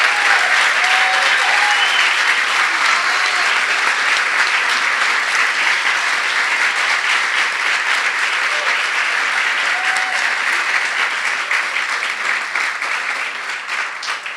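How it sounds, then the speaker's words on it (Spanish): Sustained, loud applause from an audience at an evening book launch honoring a priest, dense clapping continuing evenly for the full stretch and easing slightly at the very end. "Queremos darle un fuerte aplauso al padre Felipe en esta noche tan especial."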